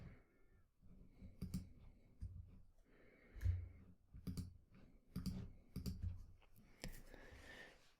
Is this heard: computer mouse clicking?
yes